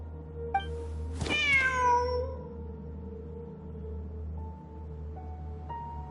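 A cat meows once, loud and close, in the video game Genshin Impact, a rising-then-falling cry over a steady low game hum, followed by soft chime-like interface tones.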